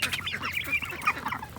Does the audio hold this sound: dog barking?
no